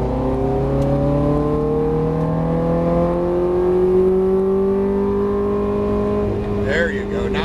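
A Ferrari being driven hard on a track, its engine note climbing steadily as it accelerates in one long, loud, continuous pull, with a brief rougher burst near the end.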